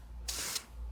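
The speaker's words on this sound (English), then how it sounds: "Don't be afraid to go far away from the gun and just spray lightly" A spray paint can gives one short, light burst of hiss from a distance onto an airsoft gun, close and steady for about a quarter second before it stops.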